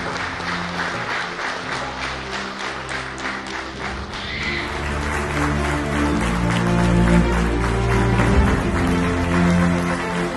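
Audience applause at a professional-life celebration event in C H Nagar, Aurangabad, with a crowd clapping steadily and swelling louder toward the end, accompanied by low music or hum.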